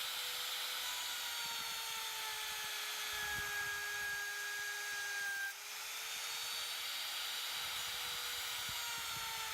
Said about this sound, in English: Now we need to cut the tenon.